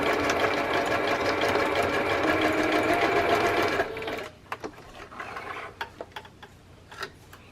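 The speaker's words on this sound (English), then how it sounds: "let me just do a random zigzaggy stitch." A sewing machine runs a zigzag stitch at a steady, fast mechanical rattle for several seconds, then stops, leaving scattered quiet clicks and handling noises.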